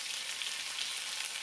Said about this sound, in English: I want the peppers by themselves in the hot oil